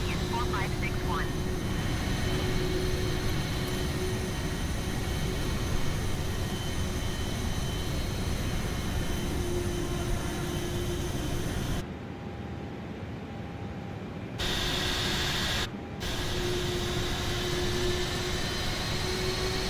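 Steady jet engine roar of an A320neo airliner taxiing past in Microsoft Flight Simulator, a broad continuous rumble and hiss with a faint whine, brief dropouts, and a voice talking over it.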